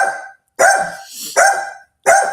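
A neighbor's dog barks outdoors, four loud, close barks in an uneven sequence with short gaps between them.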